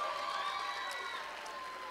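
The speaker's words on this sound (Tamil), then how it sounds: "பலத்த கரகோஷம் தேவை." A brief burst of audience applause and cheering at a stage show, a dense, steady wash of clapping from a crowd with no voices over it.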